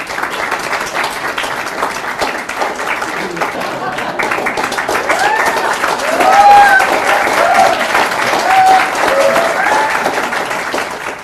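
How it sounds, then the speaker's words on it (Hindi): A large hall audience in Florida applauding on stage, a dense, sustained wash of clapping from many hands that swells louder midway and holds steady, with a voice speaking over it. "उन लोगों के तालियों से पूरा हॉल गरगरा गया।"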